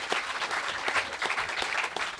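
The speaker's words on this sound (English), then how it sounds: "a big round of applause for that" Audience applause at a speakers forum, a continuous wash of many hands clapping at a steady level throughout, with no speech on top.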